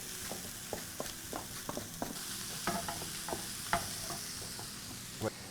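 Rinsed, drained green lentils are stirred in a pan, making soft scraping knocks and clicks of a utensil at an irregular pace over a faint sizzle, close by and fairly quiet, with no speech.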